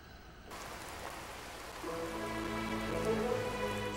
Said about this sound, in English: Still raining out here.